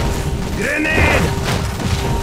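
A grenade blows up in the video game Iron Marines, a dense booming blast heard under a shouted voice, with continuous battle noise around it.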